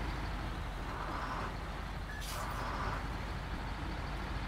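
A rear-wheel-drive International Kodiak truck on street tires drives in Snowrunner with a steady engine drone that stays even throughout, plus a brief hiss partway through; no talking.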